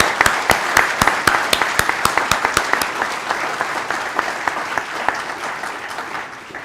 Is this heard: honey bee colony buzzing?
no